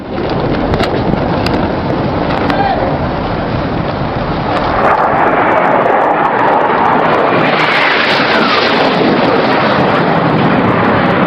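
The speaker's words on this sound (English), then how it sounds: "Russian pilots made several simulated attacks on their ship" A Russian military jet makes a low simulated attack pass over a ship at sea, a loud sustained roar that swells and shifts in pitch as it sweeps by, with rushing wind noise and no speech.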